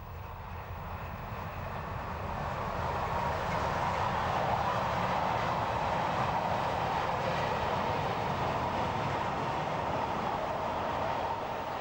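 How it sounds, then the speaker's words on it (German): A tank car freight train hauled by four V160-family diesel locomotives rumbles past, a loud steady roar of engines and rolling wagons that swells over the first few seconds and then holds constant, with no voices. "Ein Kesselwagenzug mit gleich 4 Lokomotiven ist unterwegs."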